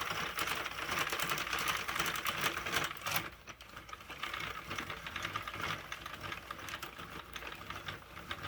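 A knitting machine running rounds without yarn, giving a rapid, dense mechanical clatter like typewriter keys, steady and close, with a brief dip partway before the clattering resumes.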